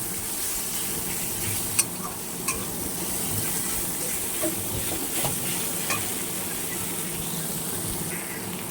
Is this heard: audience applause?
no